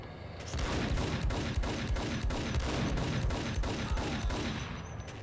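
Rapid bursts of gunfire in the video game Max Payne, with dense repeated shots, some like a shotgun, filling the whole stretch loudly and close with no talk.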